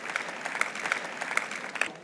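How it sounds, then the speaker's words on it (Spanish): A church audience claps for a man at a prophetic service in a short, busy burst of applause, with a few louder nearby claps rising above the crowd. "Bien, un aplauso para él."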